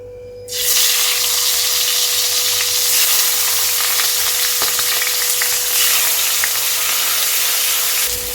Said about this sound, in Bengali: সবার প্রথমে আমি মাছগুলোকে ভেজে নিচ্ছি